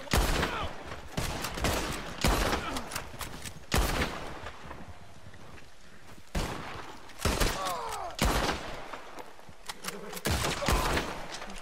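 Gunfire during a shootout in the video game Red Dead Redemption 2, set in Strawberry: loud, repeated gunshot bursts crack at irregular intervals throughout, some in quick clusters, with brief gaps between volleys.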